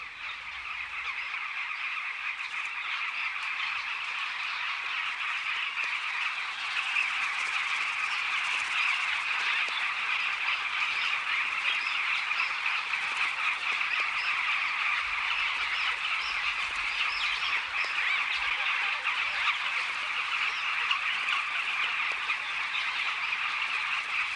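A colony of bee-eaters in Africa's Luangwa Valley calling noisily together while a monitor lizard raids their nesting bank, a dense continuous chorus of high chattering calls at a steady, fairly distant level.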